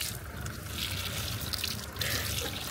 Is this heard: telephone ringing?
no